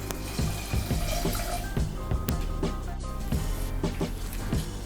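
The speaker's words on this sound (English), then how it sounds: "Then cover the rice with exactly 200 ml of water." Water pours into a pan over rinsed rice for sushi, a continuous splashing trickle with small bubbling drips and clinks, steady and close up without any talk.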